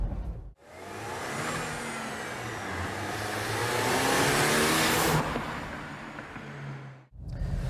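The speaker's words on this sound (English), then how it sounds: "It actually makes quite a decent sound, this engine as well. You get hints of that supercharger whine" A supercharged Mercedes W203 C200 Kompressor engine revs and accelerates loudly with a steady rising roar and a faint high supercharger whine, cutting off abruptly near the end.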